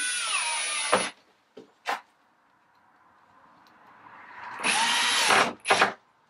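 A power drill with an adjustable torque setting drives screws into a battery casing. Two loud, whirring runs of about a second each are followed by brief clicks and short spins, all close up.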